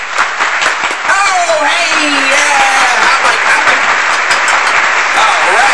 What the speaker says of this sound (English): let's give a good round of applause for our first guest tonight